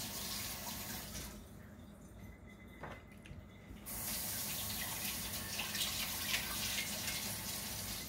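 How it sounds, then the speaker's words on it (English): Kitchen tap running as a spoon is rinsed under it, a loud steady rush of water and spray that drops away for about two seconds, then resumes stronger. "Rinse this spoon out."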